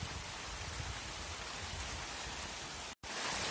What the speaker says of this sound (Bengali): হঠাৎ করে বৃষ্টি আসলো,